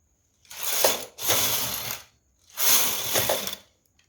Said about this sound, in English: bring my empty back needle to work and knit 2 rows